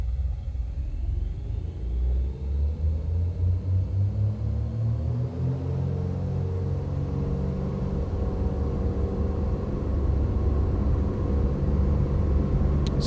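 An airliner's engines in X-Plane 11 spool up during the takeoff roll, a loud sustained rumble that rises steadily in pitch and builds to a full, constant roar.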